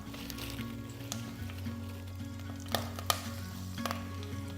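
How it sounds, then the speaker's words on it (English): Green silver beet cooks slowly in warmed oil in a pan, giving a steady, gentle sizzle with a few sharper pops and crackles scattered through it. "to that warmed oil, we're going to slowly cook our green silver beet"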